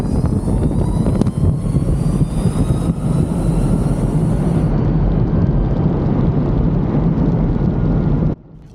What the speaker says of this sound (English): I love the Star Wars TIE Fighter soundtrack that comes with it.